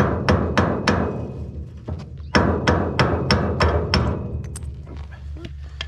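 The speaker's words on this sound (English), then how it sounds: "Might have to grab a hammer to tap on that." Sharp metallic hammer taps on a feeder wagon wheel bearing, about a dozen strikes in an uneven series, ringing briefly, close and loud with no talking.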